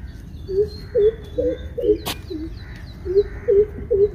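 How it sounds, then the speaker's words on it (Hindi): A greater coucal calls outdoors beside a grassy path, giving a steady series of about eight deep, hollow hooting notes at even spacing, fairly close and clear, with one sharp click partway through. "वो है भारद्वाज द ग्रेटर कूकल नाम है इसका"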